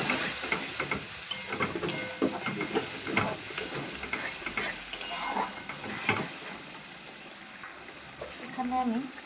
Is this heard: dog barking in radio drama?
no